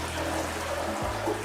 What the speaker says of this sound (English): German toilets, when you flush it